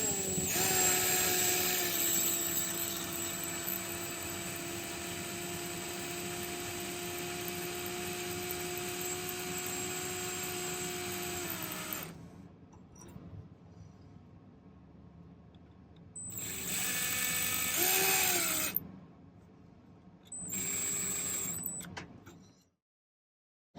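A small drill works a silver and onyx pendant with a steady high whine for about twelve seconds, then stops, followed by two shorter bursts of drilling separated by quiet gaps.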